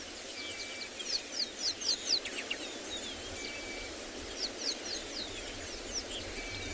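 Outdoors at sunrise on a safari reserve, a cheetah mother gives a bird-like chirping contact call to her cubs, a short run of high repeated chirps followed later by a second fainter series over steady ambient background noise.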